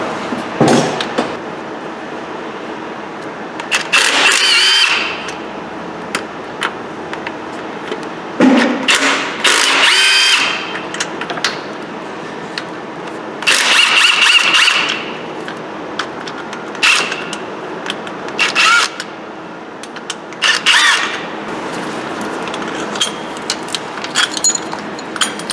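Bolts on a clutch linkage bracket of a 2005 Honda Civic being undone with a power tool, loud bursts of rapid whirring ratchet chatter in repeated spurts separated by quieter gaps and clanks.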